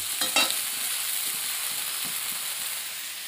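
Taro stolons frying in a pan give off a steady, even sizzle, with a couple of sharper scraping stirs near the start.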